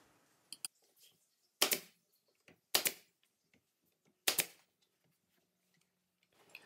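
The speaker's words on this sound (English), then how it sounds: "I'm going to shoot some 18 gauge brad nails in to secure it in place until the glue sets" An 18 gauge brad nailer fires brads into wood trim molding during a staircase trim job, three sharp loud pops spaced about a second apart with faint handling clicks around them.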